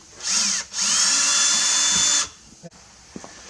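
A cordless power drill removes screws on a 2016 Ford Explorer before fitting mud flaps, with a short whir followed by a longer steady whine up close, then small clicks as it stops.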